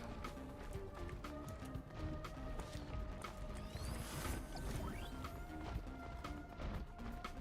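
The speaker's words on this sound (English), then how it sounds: "I hear crunchy footsteps up there." Footsteps crunch repeatedly in Risk of Rain 2, a quick, steady run of small gritty impacts layered over busy game effects and background music, fairly close and continuous.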